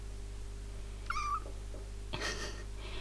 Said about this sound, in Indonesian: Ini adalah anaknya Kalirol, salah satu kucing liar yang tinggal di sekitar rumah kami.